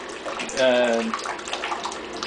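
Tap water runs into a bathroom sink, a steady rushing stream close by with a brief louder burst near the start, while someone talks over it.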